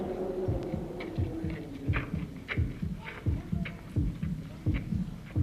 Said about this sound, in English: A heartbeat. The first human.